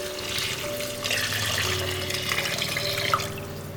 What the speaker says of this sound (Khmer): ឥឡូវចាប់តាមចាក់ទឹកចូល